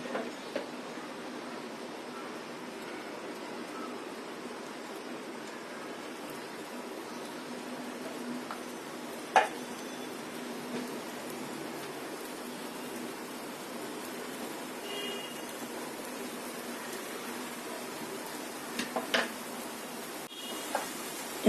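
A steady, even hiss of batter made from flour and sour yogurt frying in hot oil in a pan on the stove, continuous throughout, with a few faint clicks and small spatters.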